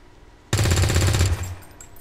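A rapid burst of automatic gunfire rattles loud and close for about a second in XCOM 2: War of the Chosen, then fades into a short echoing tail.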